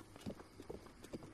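Soft, quick hoof clops from a pack-laden donkey walking in Zelda: Breath of the Wild, faint and evenly paced over a quiet game background.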